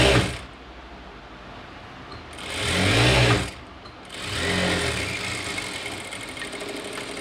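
A sewing machine runs in bursts while stitching a half-inch hem on a chudidhar top: a whirring mechanical hum that rises and falls, with two louder surges of motor noise separated by short pauses.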